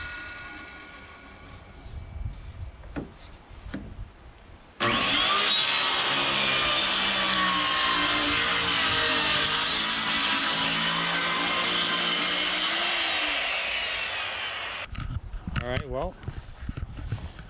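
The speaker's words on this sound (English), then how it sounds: "If you want to cut this axle" A metal axle is cut in a workshop. A loud, steady cutting roar runs for about eight seconds, with quieter handling noises and clatter before and after.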